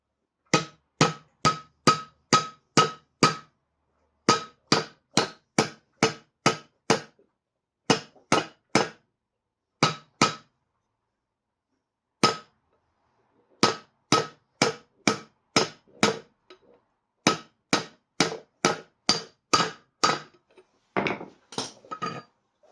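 Sharp metallic hammer taps driving a bearing into a trailer hub, in quick bursts of several strikes separated by short pauses, close and loud with no talking.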